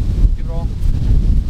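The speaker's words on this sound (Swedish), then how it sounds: "Det är så jävla vind igen" Strong wind buffets the microphone on a golf course, a loud low rumbling roar filling the short moment, with a voice briefly audible beneath it.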